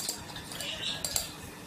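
A metal spoon clinks lightly against a dish while salt is added for seasoning rice-stuffed pigeons, a few faint, bright taps and scrapes close by.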